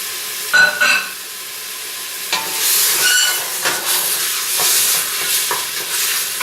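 Bacon sizzles steadily in a pan for feijoada, a close, continuous frying crackle broken by a few stirring scrapes and knocks, with no talking.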